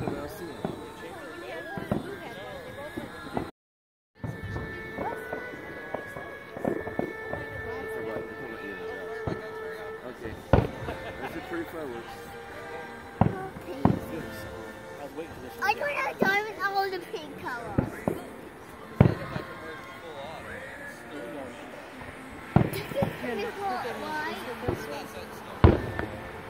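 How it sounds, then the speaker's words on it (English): Fireworks explode at a Fourth of July-season show near Ottawa Lake, Michigan, heard from a distance as scattered sharp pops and booms over about half a minute, with people chatting and crowd noise throughout. "Watch the fireworks are going to be over"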